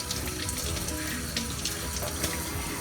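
Water from a tap runs steadily into a sink for handwashing, a continuous broadband hiss and splash with no pauses and no voices.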